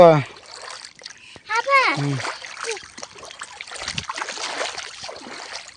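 Someone wading through a flooded village field, with splashes and sloshing water mixed in among children's and adults' voices talking close by over the water sounds.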